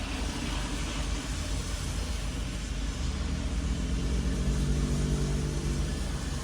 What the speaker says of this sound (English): you still hear that thunder grumbling like his stomach hungry